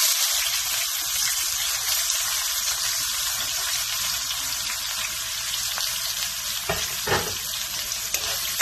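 Chopped onion sizzles loudly in butter with cumin seeds in a karai, a steady dense hiss of frying with a couple of stirring clatters near the end, no voices.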